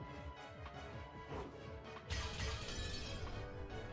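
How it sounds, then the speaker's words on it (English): A glass-breaking sound effect from the video game Umineko produces a sudden crash and shatter partway through, sitting under continuous game background sound at a fairly low level. "the sound of breaking glass, which startled Jessica"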